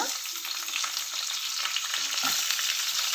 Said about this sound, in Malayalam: കടുകൊക്കെ നന്നായിട്ട് പൊട്ടി വരുന്നുണ്ട് ഇനി നമുക്കിതിലോട്ടേക്ക് എടുത്തു വെച്ചിരിക്കുന്ന വെളുത്തുള്ളി ഇഞ്ചി കറിവേപ്പില